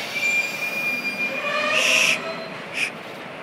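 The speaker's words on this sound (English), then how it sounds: "I'm waiting for the train to take me back to my sweet hometown." A train at a station with steady rolling rumble and sharp, high wheel squeals rising loudly near the end, a brief squeal repeating just after, with no talk.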